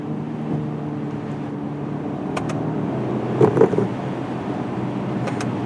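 A 2019 Subaru Ascent Premium SUV with a CVT accelerating hard from the cabin, a steady engine drone that swells slightly midway, with faint clicks and no talking.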